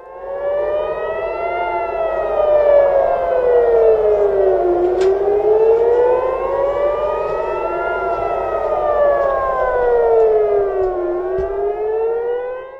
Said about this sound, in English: Let's listen in to the air raid sirens.